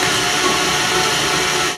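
Steady loud whir of a mixer blending wet cookie dough for gluten-free shortbread before the dry mix goes in, running evenly, then cutting off abruptly at the end.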